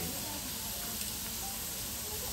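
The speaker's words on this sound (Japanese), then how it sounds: "お肉が焼けているジュージューという音が素敵に聞こえています。" Marinated lamb jingisukan sizzles on a ridged iron griddle beside bean sprouts and vegetables at a Hokkaido restaurant, a steady, close, dense hiss and crackle running unbroken throughout with no voices.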